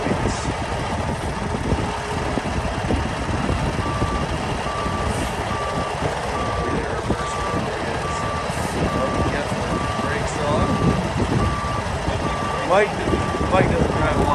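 A 2012 Kenworth T660 truck with a big Cummins engine and automatic transmission runs at idle with a steady diesel rumble, while reversing beeps sound repeatedly nearby and people talk over the engine.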